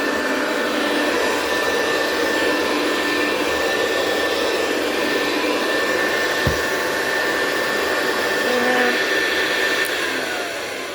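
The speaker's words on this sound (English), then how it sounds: "So yeah, that's the hoover" Commercial Hoover vacuum cleaner running steadily on carpet, a loud continuous motor whine and airflow roar held throughout, with no talking.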